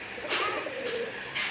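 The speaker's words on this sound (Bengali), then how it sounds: "এগুলা খুবই ভালো জাতের কবুতর" Good-breed pigeons on a pigeon farm give soft, low cooing calls. The calls are brief and fairly quiet against a faint background, with no talking.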